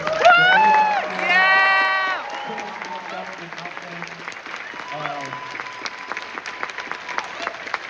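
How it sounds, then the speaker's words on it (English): Theater audience at a film screening Q&A claps and cheers, with loud whoops and shouts over dense applause at first that thins to scattered clapping and a few voices. "Another round of applause."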